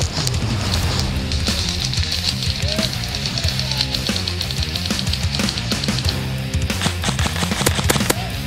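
Airsoft guns open up in rapid automatic bursts during an outdoor skirmish, loud and close with dense overlapping volleys of sharp cracks running the whole time and no talking.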